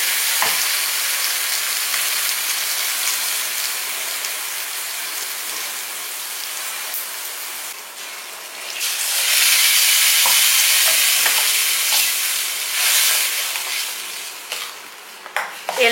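Ground chutney paste with asafoetida frying in a hot pan, a steady bright sizzle and crackle throughout that swells louder and fuller about halfway, no voices.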